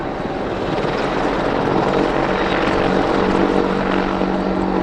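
A Wildcat helicopter, a small agile military type, flies a display at an air show, its rotor and engine roar loud and steady throughout with no talk.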